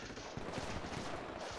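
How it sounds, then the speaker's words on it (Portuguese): Gunfire crackles outside during a street fight in the video game GTA V, a dense rattle of shots heard at a distance and muffled, with no talking. "Tiroteio ali fora."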